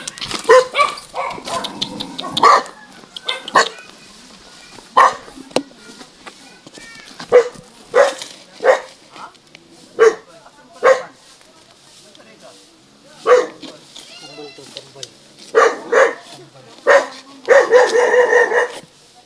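A dog barks repeatedly, with sharp barks coming in irregular bursts, loud and close, while people talk nearby.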